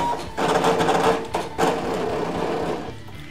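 A Brother ScanNCut machine cuts cardstock on a mat, giving a steady close mechanical whir with stepping motor pulses and brief shifts in pitch as the carriage moves.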